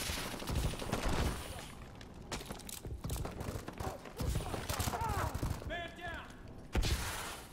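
Gunfire in the video game Call of Duty: Advanced Warfare, bursts of rapid shots and thuds in uneven clusters with mechanical clicks and electronic chirps, fairly faint, with a player talking over it.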